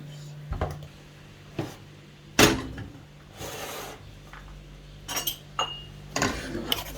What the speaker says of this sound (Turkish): Kaşık yardımıyla yavaş yavaş kremamızı ekliyoruz.